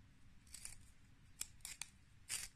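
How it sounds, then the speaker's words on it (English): A lip liner pencil is sharpened in a handheld sharpener, giving a few short, quiet scraping and crackling twists in near silence. "We'll give it a little sharpen and see if we can get any juice out of it."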